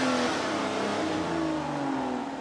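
A luxury car with push-button start revs its engine up close, a loud continuous mid-pitched growl with shifting tones that holds steady for a couple of seconds, no talk over it.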